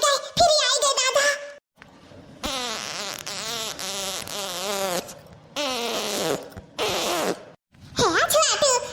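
A cartoon bride breaks wind in a run of long, wavering, buzzy farts, repeated several bursts in a row and loud and close, with animated voices talking between them.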